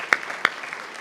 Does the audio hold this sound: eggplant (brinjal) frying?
no